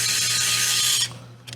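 A power drill drives a screw into an INJORA IR60 RC pickup, a steady close whirring grind for about a second before it stops and briefly resumes.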